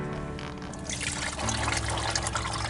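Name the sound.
oil draining out of car drain plug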